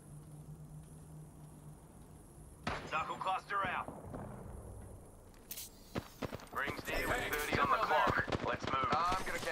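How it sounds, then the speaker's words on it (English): Gunfire in an Apex Legends ranked match: sharp, dense bursts of shots crackle from mid-distance after a quieter stretch, growing busier toward the end, mixed with footsteps and game noise. "They were shooting at somebody."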